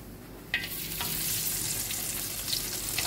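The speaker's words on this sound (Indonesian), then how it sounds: "Kita goreng dia ya." Baby crabs coated in salt, turmeric and cornflour batter frying in a pan, a loud steady sizzle with a sharp crackle as they hit the hot oil and occasional stirring clatter.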